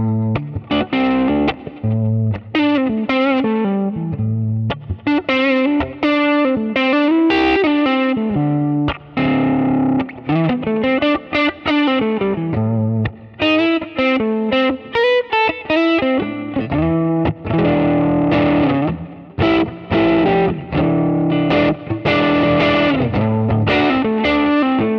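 An electric guitar is played through a Kemper profile of a 1962 Magnavox amp with the definition control at 5, producing a loud, driven tone with chorus-like shimmer, picked notes and chords in a lively melodic phrase and no talking.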